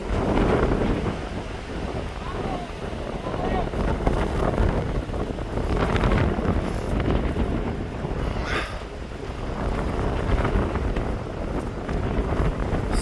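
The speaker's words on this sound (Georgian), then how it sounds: "როგორი ქარია" Strong gusting wind roars continuously across the microphone on an open football training field, a dense rumble with surging gusts throughout.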